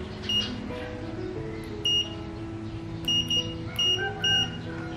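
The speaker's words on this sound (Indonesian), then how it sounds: "kita ubah dulu modenya ke mode buzzer" A multimeter set to continuity mode beeps repeatedly during a soldering inspection of a LoRa node circuit board: short, clear electronic tones in an irregular series of about six bursts over a steady background hum.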